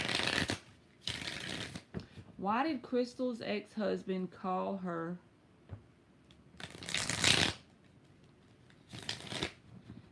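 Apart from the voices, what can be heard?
tarot cards being shuffled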